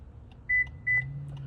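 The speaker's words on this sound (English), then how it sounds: "Heard that double beep? That means the emulator is good to start the car." A car accepts a Toyota smart key emulator with two short, clear electronic beeps in quick succession over a quiet low hum.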